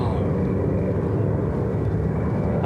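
Airplanes fly over in formation at a D-Day 75th anniversary paradrop commemoration in Normandy, a steady loud engine drone filling the whole stretch with faint talk underneath.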